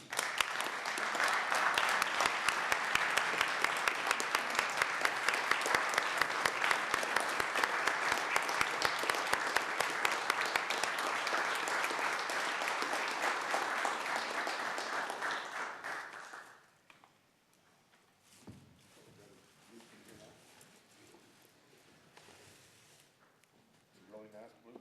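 A room at a Bastrop city council meeting breaks into steady, full applause that lasts about sixteen seconds before stopping abruptly, followed by quiet conversation and shuffling.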